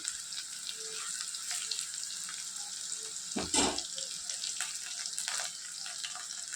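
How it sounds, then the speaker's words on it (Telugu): Ivy gourd fries quietly in a pan as chili powder is stirred in, a soft steady sizzle with a brief louder scrape or clatter midway, no talk. "ఈ కారం పొడిని ఈ దొండకాయలో వేసి కలుపుకుందామండి"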